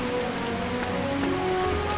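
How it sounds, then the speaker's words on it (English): Steady rain hisses over a wet surface in the game Kitaria Fables, a dense even patter running throughout with faint musical tones underneath and no one speaking. "Oh no, it's a rainy day, you guys."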